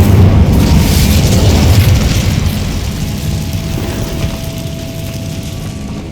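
A loud, close Incendio fire spell blast in Hogwarts Legacy, a heavy roaring burst that rumbles and slowly fades into a sustained low hum, with no voices.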